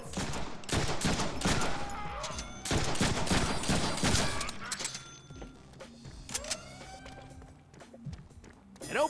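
Bursts of gunfire in the Deadpool video game, loud rapid volleys during the first few seconds, then sparser shots and game sounds continue more quietly.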